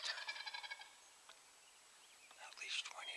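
A wild turkey gobbles faintly in the distance, a quick rattling burst at the start and another toward the end.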